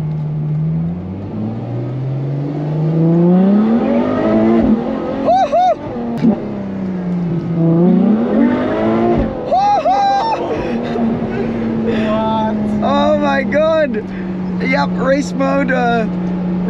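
A Ferrari F12 TDF in race mode pulls hard under acceleration, its engine note climbing in rising sweeps from inside the cabin before settling into a steady drone, with people talking over it throughout.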